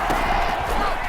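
Stadium crowd cheering inside the Madden 21 American football video game as play builds toward a big third down, a loud, steady roar of massed voices without talk.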